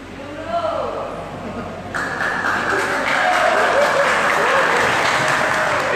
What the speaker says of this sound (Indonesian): Minum pun kena tepuk tangan.